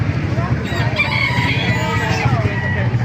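Texas gamefowl roosters and other chickens at a busy market: crowing and clucking mingle with a low crowd murmur, and a person talks nearby throughout.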